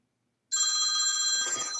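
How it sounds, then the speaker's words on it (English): A telephone rings suddenly and loudly after a moment of silence, a bright sustained electronic bell tone that holds steady to the end. "And that's a phone call."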